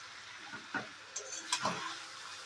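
Pumpkin greens and stalks are stir-fried in a pan, giving a faint sizzle with a few soft scraping stirs and clinks. Two louder sweeps of the spatula stand out over the quiet frying.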